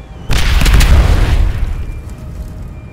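A grenade detonates in the sci-fi video game Aliens: Dark Descent, a sudden loud boom with a rumbling, crackling tail that fades over a couple of seconds, alone without voices.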